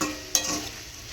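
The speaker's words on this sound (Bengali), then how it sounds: "করছি সব রকম সবজি দিয়ে আর কি ভাজা।" Mixed vegetables frying in a pan give a brief, fairly quiet sizzle with one sharp stirring clink near the start.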